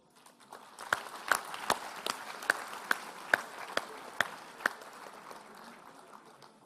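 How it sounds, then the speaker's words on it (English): Applause at a university convocation for an Executive MBA medal winner, a soft crowd patter topped by loud, evenly spaced claps from someone nearby, tapering off at the end. "A loud round of applause, please, everybody."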